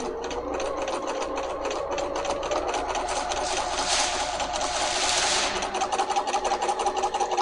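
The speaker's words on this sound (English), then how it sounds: "what I'm doing right now is typically called a stipple or meander. We're moving the fabric" A Bernina 300 series sewing machine stitches a free motion quilting stipple, running in a steady, close, rapid mechanical chatter that speeds up and slows slightly as the fabric is moved.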